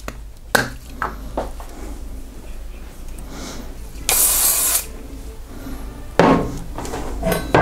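Rust protector sprayed onto a Suntour XCM coil-spring bicycle suspension fork: a short aerosol hiss, a quieter burst, then another hiss, close by amid light handling clicks.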